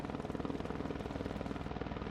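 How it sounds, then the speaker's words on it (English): A firefighting helicopter flies over a fire, its rotor beating in a steady rapid chop under a broad engine roar that stays loud and continuous throughout. "The helicopter now flies over the fire."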